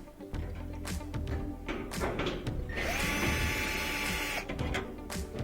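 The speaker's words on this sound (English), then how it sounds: "5/8 screws that we're going to just pop out here and here to get the front panel out" A power drill backs out the 5/8 screws holding the front panel of a gas dryer, whirring in a sustained run over steady workshop noise, with a few short taps and knocks nearby.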